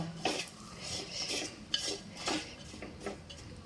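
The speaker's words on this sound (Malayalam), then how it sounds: "നന്നായിട്ട് മിക്സ് ചെയ്തെടുക്കണം കേട്ടോ." A spoon scrapes and clinks against a pot while mango curry is stirred, soft irregular metallic strokes heard close but faint, with no talking.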